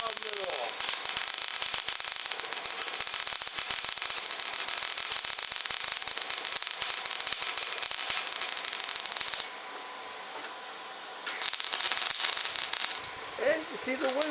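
An outdoor weld on 1/8-inch steel for a vise stand gives a steady, close crackling hiss that drops out briefly around the middle, resumes, then cuts out again near the end, with wind present.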